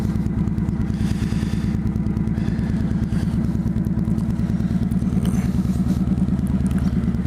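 A motorcycle idling nearby, a steady, rapid low-pitched chug with a rattly, even pulse running throughout without change.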